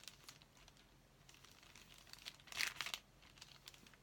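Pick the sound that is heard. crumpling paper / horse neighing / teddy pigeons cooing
crumpling paper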